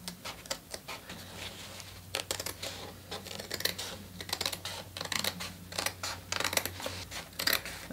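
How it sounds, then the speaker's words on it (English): Quiet, irregular snipping and clicking of small sharp scissors cutting through a jeans seam, close up, in short bursts with brief pauses between. "I'm just going to take my little sharp scissors and I'm just going to start cutting."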